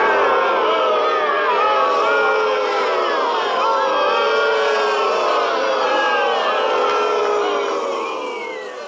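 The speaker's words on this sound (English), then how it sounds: "He wants me to add crowd noises." A dense, steady roar of crowd noise, added as an effect while a convention panel is set up, fills the space at constant loudness and eases off slightly near the end.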